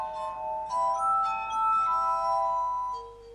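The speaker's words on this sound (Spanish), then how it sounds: "En 1761, Franklin presentó su armónica de vidrio" Benjamin Franklin's glass armonica, made of rotating glass bowls, sounds long, bright sustained notes that swell and blend into a soft ethereal chord, clear and unaccompanied.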